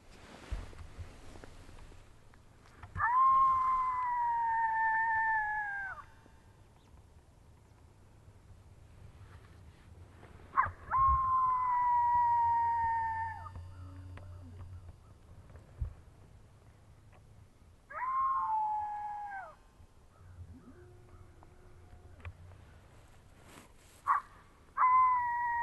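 Electronic predator-hunting caller playing an owl call outdoors: four long, loud hooting phrases spaced several seconds apart, each a sustained wavering tone with a drop at the end, with quiet gaps and faint ambient noise between.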